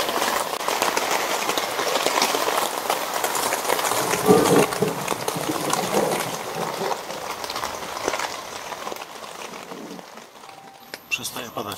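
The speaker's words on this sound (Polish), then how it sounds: "Przestaje padać chyba pomału." Steady rain falls outdoors during a holiday in the Masurian lake district, a broad continuous hiss that thins gradually toward the end as the downpour eases off.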